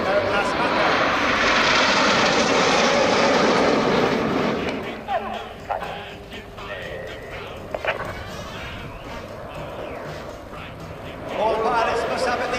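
Red Arrows jet aircraft in a full air display at Fairford roar loudly overhead for several seconds, then fade into a distant rumble before swelling again near the end, with a commentator talking over the engines.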